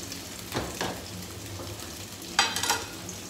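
Potato pancakes (draniki) frying in a pan, a continuous close sizzle broken by a few louder spatter and stirring bursts.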